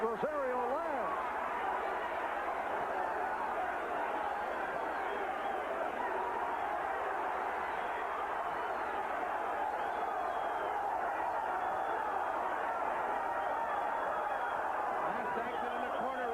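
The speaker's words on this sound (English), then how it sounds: "the crowd is calling off every blow that Rosario lands" Arena crowd noise at a boxing bout between Rosario and Ramirez, a steady roar and babble of many spectators reacting to punches, sustained and loud throughout without a clear break.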